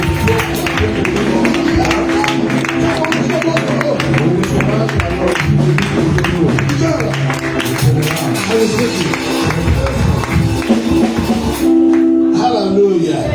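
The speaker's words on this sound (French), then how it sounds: "Avec un applaudissement" Steady, dense clapping from a congregation during a church service, continuous and loud across the whole stretch and mixed with music, easing slightly near the end.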